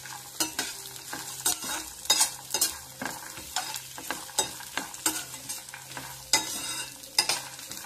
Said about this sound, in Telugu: కొంచెం ఒక స్పూన్ ఆయిల్ వేసుకొని ఇవన్నీ వేపేసుకుంటే సరిపోద్ది